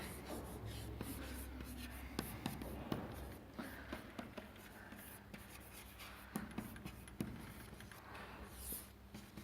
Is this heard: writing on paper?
yes